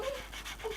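A dog pants and whimpers softly in short breathy bursts, with a brief high whine near the start and again toward the end.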